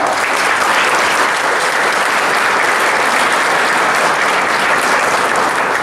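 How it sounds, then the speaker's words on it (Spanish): An audience at a university congress inauguration at UNAH VS applauds international guests, a dense, loud, steady wash of many hands clapping that holds evenly throughout. "Les pido un aplauso para nuestros invitados internacionales, la máster Oliva Barros, por favor."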